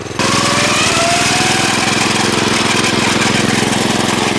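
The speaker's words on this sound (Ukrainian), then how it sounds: "Запускаємо, а потім косу запускаємо." A walk-behind tractor fitted with a mower attachment runs steadily and loudly at close range, its engine chugging in a continuous rhythmic drone with no talk.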